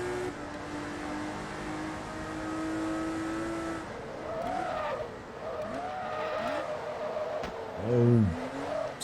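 TVR Tuscan S race car in Forza Motorsport 2, its engine note rising and falling steadily, then a burst of sharp tyre squeal near the end as the car skids under braking.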